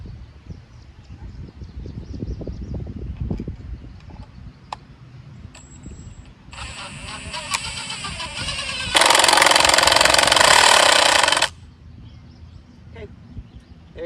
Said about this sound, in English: It makes it a little bit easier screwing into your boxes, into your boards.